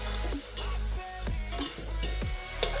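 Onions sautéing in a pan for a brinji rice dish, a steady close sizzle with soft stirring scrapes recurring about every half second.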